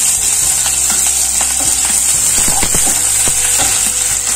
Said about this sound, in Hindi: ऑयल गर्म हो गया है अब इसमें सबसे पहले हम कटी हुई प्याज डालेंगे